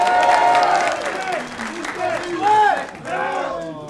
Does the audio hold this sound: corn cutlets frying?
no